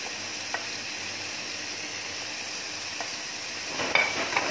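Carrots and ampalaya (bitter melon) stir-frying in a pan, a low steady sizzle with occasional soft scrapes and clinks of a utensil, a little busier near the end.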